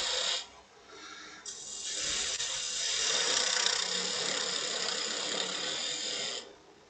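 A roughing gouge cuts wood on a lathe while a goblet is turned, giving a steady, close, hissing rasp that starts after a short cut, then holds loud and even for several seconds before stopping.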